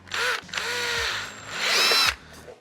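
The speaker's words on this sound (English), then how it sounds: "that is where you need to drill your hole" Power drill boring a hole in TIE pilot chest armour, two whining bursts of the motor at close range with a short pause between them, loud and with no talking.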